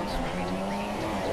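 Racing car engine revving at the race start in a video game, a steady loud tone held throughout with tire noise mixed in.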